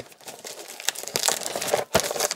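Crinkly tearing of plastic wrap as a 2022 Topps Gypsy Queen baseball card blaster box is ripped open, close and busy with irregular crumpling bursts, no talk.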